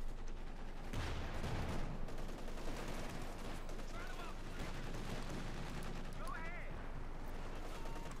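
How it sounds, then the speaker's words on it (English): An MG-34 machine gun fires bursts in a Company of Heroes 2 battle, with rattling gunfire and scattered explosions mixed under a caster talking over the game. "the MG-34 just fires right at the Sherman"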